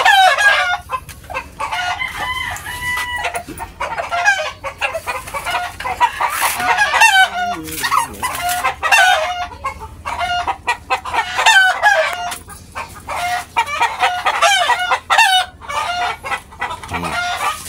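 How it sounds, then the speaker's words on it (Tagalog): A flock of chickens clucks busily up close, with roosters crowing several times over the continuous chatter. "Putak itong mga manok ito. Putak."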